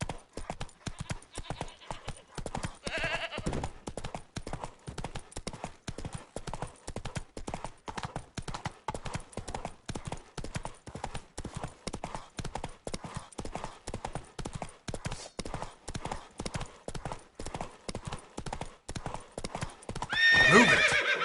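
Roach the horse in The Witcher 3 gallops with rapid, evenly spaced hoofbeats, close and steady, with a sharp neigh near the start and another whinny near the end.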